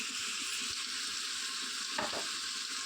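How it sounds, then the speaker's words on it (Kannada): Red pumpkin pieces stir-fry in a hot pan, giving a steady, loud sizzle with soft scraping stir strokes and a brief clatter near the two-second mark, with no voices. "ಚೆನ್ನಾಗಿ ಫ್ರೈ ಮಾಡ್ಕೊಳ್ಳಿ"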